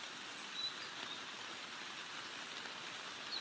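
Steady rain in a visual novel game, a constant hiss of falling drops with no breaks or voices, even and moderately loud throughout.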